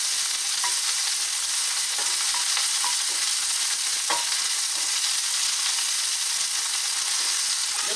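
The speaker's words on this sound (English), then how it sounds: "you want to stir it the whole time that it's cooking" Pork stir-fries in garlic sauce in a pan for yu xiang rou si, making a dense, steady, loud sizzle with occasional light clicks of stirring and no voices.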